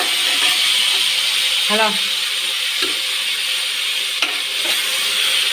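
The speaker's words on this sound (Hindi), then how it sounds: "कड़ी पत्ता के बाद टमाटर डालकर अच्छे से हला लीजिए।" Tomatoes frying with curry leaves in a pan, giving a steady hiss and sizzle broken by a few short clanks of stirring, with a brief spoken word in the middle.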